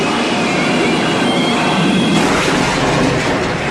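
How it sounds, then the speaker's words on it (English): A hard-braking train from the 1971 film The French Connection gives a loud, continuous metallic wheel screech with a dense rumbling roar, sustained without pause. "the sound effect of like a train braking hard, like that screeching noise"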